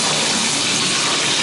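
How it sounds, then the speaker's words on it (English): A shower running with the hot water turned on, a steady loud broadband hiss of spraying water, close and continuous with no talking. "we'll turn on the hot water"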